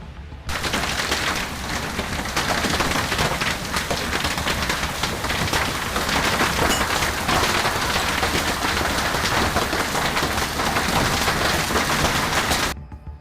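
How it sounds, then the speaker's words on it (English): Golf ball-sized hail pounds down during a massive hailstorm in Phoenix, a dense relentless clatter of countless impacts on roofs and ground, loud and continuous, with no voices. "golf ball-sized hail starts raining down"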